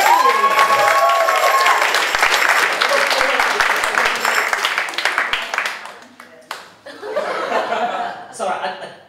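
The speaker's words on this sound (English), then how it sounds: "give yourselves an absolutely thunderous round of applause" At a comedy club in Bethnal Green, East London, the crowd breaks into loud applause mixed with cheers and laughter, fading and flaring again as the comedian starts talking.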